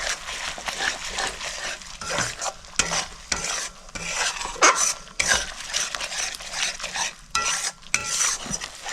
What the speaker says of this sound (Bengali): কাজু বাটাটা দিয়ে আমি ভালো করে মিক্স করে নিচ্ছি